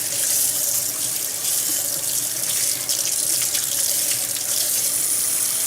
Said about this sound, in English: this bottom plastic thing is where you're gonna actually add hot water.